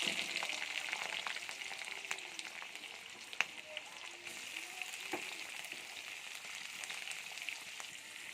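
Quiet, steady sizzling of nigella seeds, chopped green chilli and chopped onion frying in hot oil, a soft crackle with occasional pops and faint stirring.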